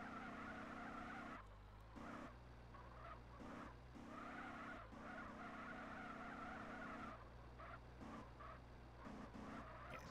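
A car drifting with four-wheel-drive handling in GTA: San Andreas gives a sustained, loud tire squeal over engine noise. It runs almost continuously across the clip, with a few brief breaks as the slide changes.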